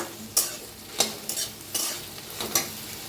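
Okra and masala are stirred in a frying pan, a spoon scraping in about five sharp strokes over a soft sizzle, close and fairly quiet, with no voices.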